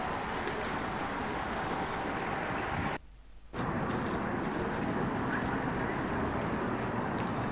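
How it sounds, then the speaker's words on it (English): Dense, steady rain hisses loudly and continuously at an outdoor swap meet in Portland, Oregon, broken by one brief dip of less than a second before resuming. "The rain just kept pouring down all day"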